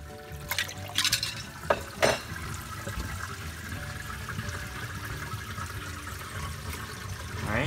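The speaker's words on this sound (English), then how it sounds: "let's drain the water" Water gurgles and drains steadily from a sink through a P-trap, with a few clinks and drips early on, fairly faint and continuous.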